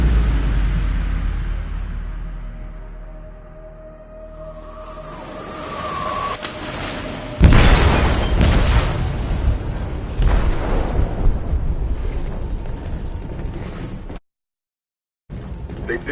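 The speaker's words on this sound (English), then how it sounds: "They detonated an explosive in the hold" Explosive detonated in a ship's hold in the video game Detroit: Become Human: a loud blast with a sharp impact, followed by heavy rumbling debris and a sustained roar, then a brief silence near the end.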